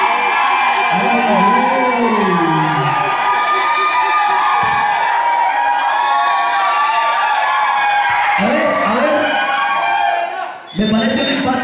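A game-show studio crowd shouting and cheering loudly for the second group of contestants, a sustained roar of voices, whoops and children's yells that dips briefly near the end.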